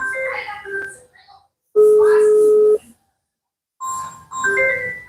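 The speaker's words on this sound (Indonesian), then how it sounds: "Kita telepon dulu" Telephone dialing to place a call: short electronic tones and one long steady tone between speech, with voices talking before and after.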